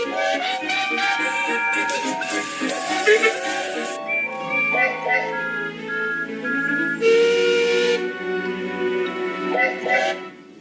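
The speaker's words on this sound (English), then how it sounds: "This was the signal for a chorus of whistles from engines large and small." Several steam engine whistles in a Roblox game sound together and in turn, long shrill overlapping tones forming a loud, continuous chorus.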